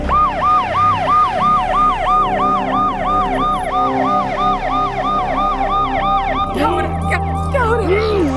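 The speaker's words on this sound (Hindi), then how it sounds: "संघवी सर, एम्बुलेंस बुलाओ।" An ambulance siren wails in a steady repeating rise-and-fall cycle, loud and continuous over traffic noise, before breaking off into a different pitch sweep near the end.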